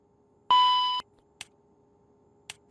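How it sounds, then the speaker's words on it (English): Cockpit warning alarms in an OH-58 Kiowa helicopter flight simulator: a half-second steady electronic tone, then two short faint clicks, clean and isolated over a quiet hum. "we're going to hear a series of warning alarms or warning horns that you can silence by pressing the acknowledge button"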